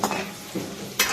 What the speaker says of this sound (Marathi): ती डाळ पण आपण अशी थोडीशी हलवून घेऊ.